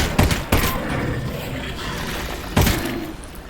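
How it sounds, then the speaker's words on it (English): Gunfire in the VR game Half-Life: Alyx, shooting at barnacles: a few sharp, loud close shots, two in quick succession near the start and another a couple of seconds later, each trailing off into a reverberant tail. "I'm just going to start shooting."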